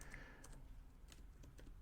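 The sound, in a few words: typing a search on a computer keyboard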